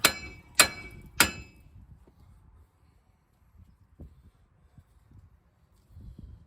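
Three loud, sharp metallic hammer strikes in quick succession on a front wheel bearing part of a 2005 GMC Savana van, then a few faint knocks and shuffles.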